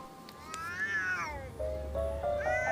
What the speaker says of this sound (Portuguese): o miado de um gato